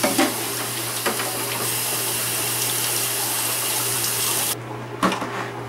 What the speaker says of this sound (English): Now I'm testing this to see that water is flowing to the four corners of the